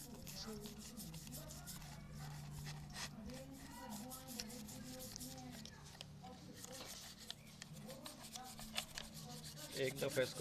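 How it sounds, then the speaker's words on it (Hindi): A brush scrubs a dirty Xerox 5775 copier spare part with a steady, close scratchy rubbing that continues throughout, while someone speaks over it. "एक दफ़ा इसको थोड़ा सा ब्रश के साथ रगड़ दें।"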